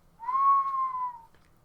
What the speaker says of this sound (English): As they were scampering over the wharf, Rudy let out a long, low whistle.